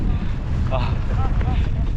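Strong wind buffets the microphone in a constant low roar at a car campsite, with brief faint tones and sounds mixed in.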